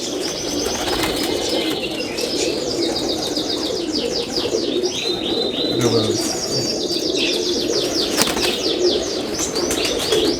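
Teddy pigeons in an open loft, cooing steadily alongside repeated wing flaps and scattered chirps from other birds, with a dense, continuous flock sound throughout.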